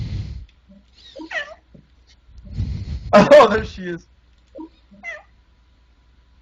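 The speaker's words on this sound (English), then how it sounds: "Good little kitty." A domestic cat meows a few times, one loud drawn-out call in the middle and shorter quieter mews around it, with someone talking over parts of it.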